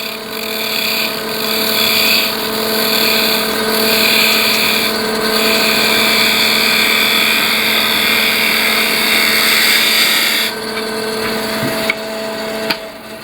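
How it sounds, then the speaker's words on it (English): Roughing gouge shaping curves on a wooden pepper mill spinning on a lathe, a loud continuous whirring hum with steady hiss of cutting, briefly changing near the end. "the roughing gouge is a wonderful tool for doing curves like this."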